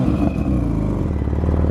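An Audi RS7 fitted with new downpipes revs with a deep, loud, rumbling exhaust note, close by and steady throughout with no talk.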